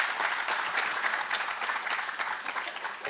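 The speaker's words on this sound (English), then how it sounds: "Loud applause for Mr. Jeffrey, please." Steady applause from a seminar audience on hazardous goods, a dense even patter of many hands clapping at moderate distance, continuous for about three seconds with no voices over it.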